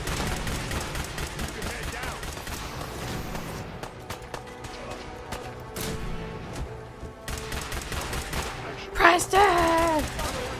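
Rapid bursts of gunfire from the video game Fallout 4, dense repeated shots and machine-gun-like volleys filling the scene, with a voice briefly heard near the end.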